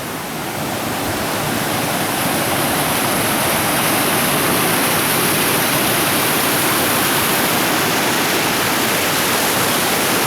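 Crystal Falls in Kinsmen Park, Sault Ste. Marie, roars steadily up close, a dense, unbroken rush of falling water that fills the whole ten seconds without a pause or voice.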